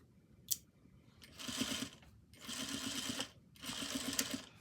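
A sewing machine stitching a cuff seam on a formal cover-up garment, heard in three steady runs of about a second each separated by short pauses, fairly quiet and close, with a faint click before the first run.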